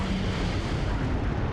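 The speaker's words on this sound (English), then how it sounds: "They actually got 1-3 Panther with the airstrike." A heavy airstrike blast rolls over a Panther tank in Close Combat IV, a dense, sustained booming roar with low rumble filling the whole moment, loud and continuous without any talk.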